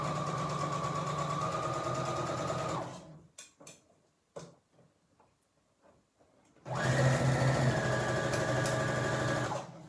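A sewing machine stitching fabric for a yoga mat bag in two steady whirring runs, separated by a pause filled with a few clicks and handling noises.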